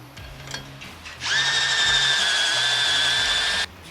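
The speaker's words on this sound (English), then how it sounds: "Here, you just have to drill it out to about ½ inch." A half-inch drill or step bit bores out a bolt hole in the frame of a 2018 Jeep Wrangler JL during a lift kit install, a loud steady high whine starting after a quiet second and running about two and a half seconds before stopping abruptly.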